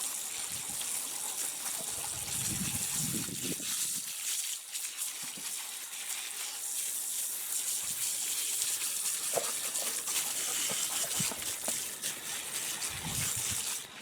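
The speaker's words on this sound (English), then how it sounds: "Continue to rinse this off here." Running water rinses bleach off a deer skull being cleaned for a European mount. The hiss and trickle are steady and fairly soft, with a few low thumps and splashes.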